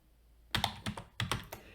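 Quick keystrokes on a computer keyboard, about eight close, crisp taps in two short bursts, heard alone with no talk.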